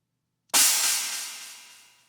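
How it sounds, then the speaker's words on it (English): A standard crash cymbal sample played in Ableton: one bright, sharp hit after a short silence, ringing out and slowly decaying with a hissy shimmer. "to create this effect is just a standard crash sample."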